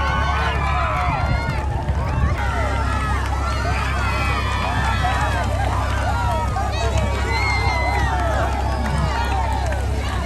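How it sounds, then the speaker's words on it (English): A crowd cheers and shouts at a village boat race on a small Indonesian island, with many excited voices overlapping in a dense, continuous roar and wind buffeting the microphone throughout. "The crowd is going crazy."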